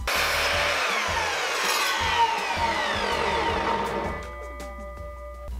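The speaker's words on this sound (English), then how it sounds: "So I'm gonna take that over to my miter saw, set up a stop block, and chop them down quickly." A miter saw chops wood pieces down to length in a workshop, giving a loud continuous whining cut that lasts several seconds, then the blade spins down alone.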